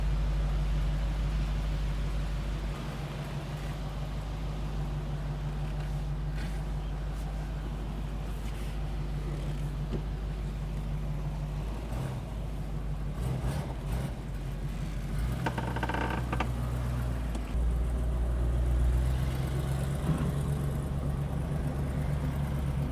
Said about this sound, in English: let's go have a Mercedes driving experience